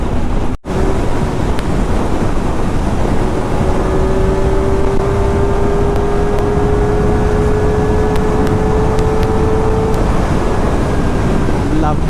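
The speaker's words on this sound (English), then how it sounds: "Lovely motorcycle." An Aprilia RS 457 sports motorcycle rides on an open road, its engine a steady drone with a gradually rising and falling pitch, buried under heavy, continuous wind rush across the microphone.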